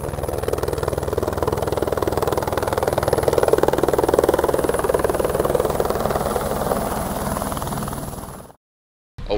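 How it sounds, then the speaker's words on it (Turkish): A helicopter arrives at a snowy winter driving event in Austria, its rotor chop pulsing steadily with a droning engine whine, loud and close for about eight seconds before cutting off. "Helikopter geldi."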